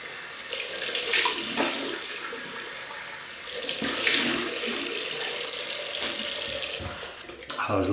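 A bathroom tap runs steadily while shaving products are rinsed, a loud close rush of water that pauses briefly midway, then resumes and fades at the end.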